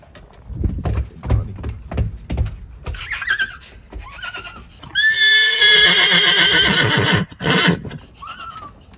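A person imitates a horse neighing, first with low voiced grunting sounds and then a long, loud, quavering whinny-like cry held for a couple of seconds, followed by a shorter squeal.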